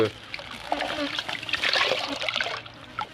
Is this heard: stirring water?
yes